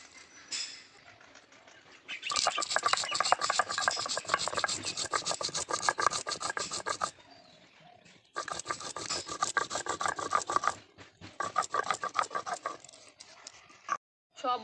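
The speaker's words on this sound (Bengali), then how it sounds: "এবার গোটা গরম মশলা ভাজাগুলো বেটে নেবো" Roasted whole garam masala spices are ground with rapid rhythmic rasping strokes, loud and close, in long bursts separated by brief pauses.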